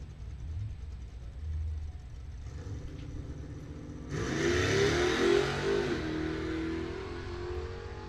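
A 1966 Chevrolet Malibu makes a drag racing pass in bracket racing at Coles County Dragway. Its engine idles and rumbles at first, then roars louder midway as it accelerates hard down the strip, and the roar holds loud to the end.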